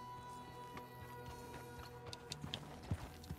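Horse hooves clip-clop at a steady walking rhythm in the Western video game Red Dead Online, moderately close, with a few sharper knocks toward the end and no talk over them.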